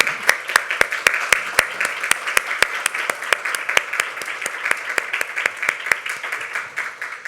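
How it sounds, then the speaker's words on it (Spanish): An audience applauds the philosopher Fernando Savater at the close of a seminar on development cooperation, crisp sharp claps standing out individually over a softer wash of clapping, fairly near and steady throughout. "Un aplauso para Fernando Savater."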